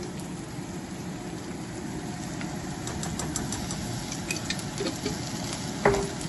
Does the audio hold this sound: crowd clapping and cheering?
no